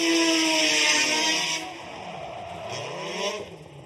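Formula Drift Japan car held at full throttle through a qualifying run, a loud sustained high-revving engine scream with harmonic sweeps as revs dip and climb again, close and dominating.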